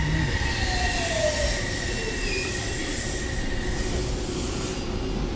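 A Tokyo train running from Yoyogi-Uehara to Shinjuku rumbles steadily along the rails, with a constant low roar and a faint metallic squeal of wheels throughout.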